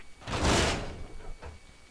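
A door opening in the Resident Evil 0 video game, a heavy whooshing scrape swelling for about half a second followed by a fainter second thud, loud and close with no talk.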